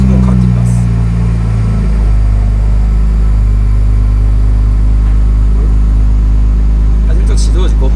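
A Ferrari 296GTB hybrid with a cold engine idles steadily while warming up, a loud low rumble that settles after a brief higher rev at the start, with people talking over it.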